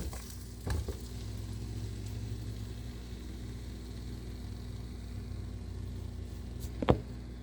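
Potatoes, soaked for fifteen minutes, sautéing in a pan for an Italian peperonata, producing a soft, steady sizzle with a low background hum and a couple of brief clatters near the start and end.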